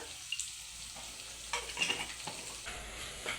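Mutton keema frying with turmeric, a soft, continuous sizzle with occasional scraping stirs and light clinks, fairly quiet and close.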